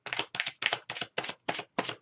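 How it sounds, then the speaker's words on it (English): Tarot cards being shuffled by hand in seven quick, evenly spaced bursts of crisp riffling, close and moderately loud, with short silent gaps between them. "Cards are now officially shuffled."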